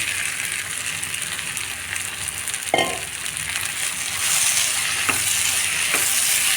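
Cabbage fries in masala and chilli powder in a pan, a steady hiss of sizzling under repeated scraping stirs, with a few sharp clinks of the spatula against the pan and the frying growing brighter near the end.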